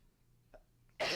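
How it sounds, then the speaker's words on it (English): After a quiet moment, a single short cough bursts out abruptly and loudly right at the end. "Sorry, got a cough."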